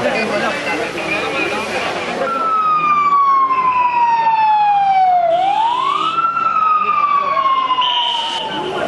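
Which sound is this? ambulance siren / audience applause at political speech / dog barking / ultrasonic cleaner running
ambulance siren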